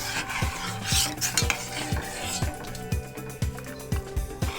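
A spoon scraping a pot as a natural hair-straightening paste boils on the stove, regular rhythmic strokes with soft bubbling beneath, while someone talks over it.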